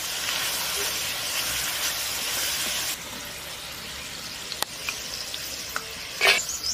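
Potato chips frying in very hot oil, a loud dense sizzle that softens partway through, followed by scattered clinks of utensils and a short burst of bubbling near the end.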